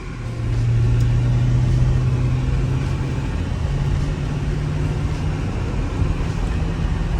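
A 2006 Mercedes SL55, just converted to Neomax coilovers with Swift springs, drives along with a steady low engine rumble and road noise, a constant hum shifting slightly in pitch, heard from inside with no talking.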